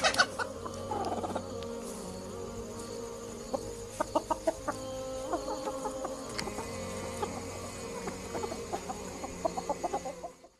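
A chicken clucks in short repeated bursts, fairly close but soft, with scattered pauses and a faint background hum; a brief murmur near the start.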